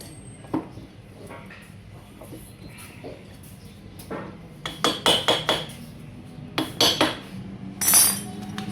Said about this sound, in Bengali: আমরা সিলিন্ডারটা লাগাই দিচ্ছি কার্বোরেটরের তলত